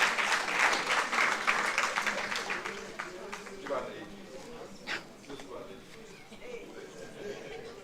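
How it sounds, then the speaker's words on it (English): An audience at an International Mother Language Day celebration claps at full strength for a few seconds, then the applause fades out as a few voices and chatter carry on. "Ladies and gentlemen, please another round of applause as they take their seats."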